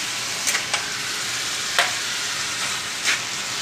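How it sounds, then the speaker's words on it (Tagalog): Bamboo shoot adobo being stirred and fried in a pan, a steady soft sizzle with a few brief scraping stir strokes spaced through the clip, no talking. "Ihalo lang natin ng ihalo."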